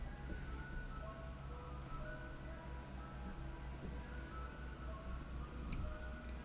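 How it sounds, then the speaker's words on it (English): An ice cream truck rolling along a residential street outside a house, its chiming tune faint and distant beneath steady background noise. "do you hear the ice cream truck right now? It's like rolling up on my street."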